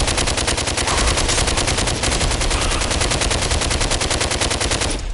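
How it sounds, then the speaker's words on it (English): A rapid, unbroken stream of loud machine-gun fire from a weapon in the VR shooter DWVR, with dense evenly spaced shots that run the whole time before cutting off at the end. "that gun is so loud, it does my ears in"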